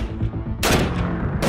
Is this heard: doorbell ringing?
no